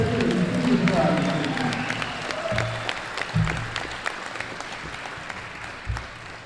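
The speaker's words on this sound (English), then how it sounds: "Let's all give them a round of applause." An audience applauds the Hammond Central Junior ROTC at a sports hall of fame ceremony, with steady, dense clapping that carries across the clip and fades slightly, a voice talking faintly underneath.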